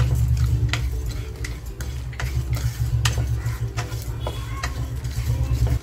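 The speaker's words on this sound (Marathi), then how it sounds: "त्याच्यावर खोबरं सुद्धा आपल्याला मस्त असं परतवून घ्यायचं" Grated coconut roasted with spices in a kadhai, stirred by a spoon that scrapes and taps the pan in irregular clinks over a low sizzling hum.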